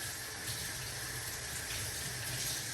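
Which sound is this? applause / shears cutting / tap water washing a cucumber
tap water washing a cucumber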